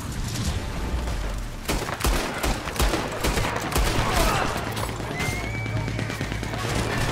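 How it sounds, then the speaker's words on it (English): Enemies open fire during a Red Dead Online posse mission: a dense, loud fusillade of repeated gunshots and booms, with rumbling bursts running continuously throughout. "They started shooting."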